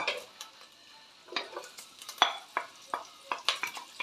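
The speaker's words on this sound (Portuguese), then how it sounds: "agora eu vou botar a cebola" Onion sizzling in bacon fat in a pan, with irregular spatula scrapes and bursts of frying noise, fairly quiet and close.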